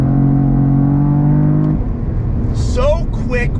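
A 2022 Cadillac CT4-V Blackwing accelerates hard from a dead stop with paddle shifts, its engine roaring loud and close before a quick shift, while voices shout over it.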